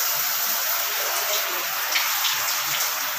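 Hot water from a newly installed water heater gushes out of a tap in a steady, hissing splash, close and continuous.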